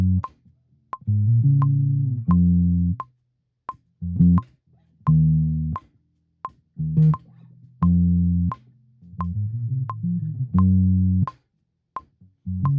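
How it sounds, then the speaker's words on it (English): A punchy bass guitar line repeats in a loop over a steady metronome-like tick, with short deep notes and brief gaps between phrases. "I thought it'd be cool to play bass guitar in a verse section"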